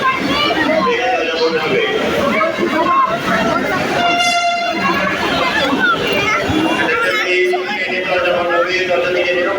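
A metro rail train rumbles in motion, a loud continuous roll with a brief tonal horn or signal tone partway through, while passengers talk nearby over the noise.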